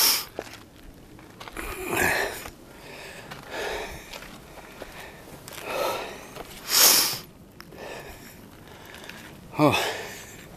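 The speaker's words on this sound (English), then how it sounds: "sorry about the heavy breathing" Heavy breathing from a hiker climbing uphill on the Mormon Trail at South Mountain: loud, ragged gasps and huffs recur every couple of seconds, close to the microphone.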